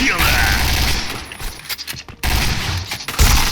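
Rapid automatic gunfire in the Point Blank online shooter game, loud bursts filling most of the moment with a short gap midway, while a player talks over the shooting.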